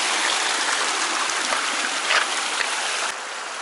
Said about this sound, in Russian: вот из-под камней вода уже выходит из-под земли